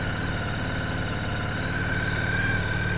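A Honda VTR SP1 motorcycle engine idles steadily after a service, with a constant, even, close-up rumble and a faint whine on top. It stays at one level throughout and no one speaks.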